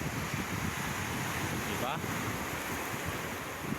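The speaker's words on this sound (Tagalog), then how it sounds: "Sarap pakinggan ang mga agos ng alon." Ocean waves at high tide wash in a continuous roar mixed with wind buffeting the microphone, with a brief spoken word partway through.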